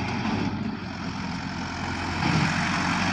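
A tractor engine runs steadily nearby in a farm field during maize planting, a dense, continuous low rumble that swells slightly toward the end, with no talk over it.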